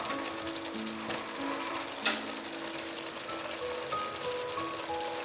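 Vegan tofu mince stir-fries with soy sauce over low heat, giving a steady close sizzle with soft stirring scrapes and one brief sharp clack partway through, no voices.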